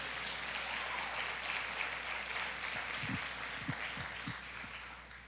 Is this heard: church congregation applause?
yes